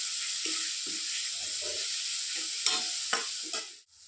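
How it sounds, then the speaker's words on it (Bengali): Spices with ground cumin stir-fried in a pan for a spicy taki fish curry, a steady close sizzle with scraping spoon strokes against the pan, a few sharper clinks near the end before it cuts off. "জিরে গুঁড়ো। ভালো করে কষিয়ে নেব।"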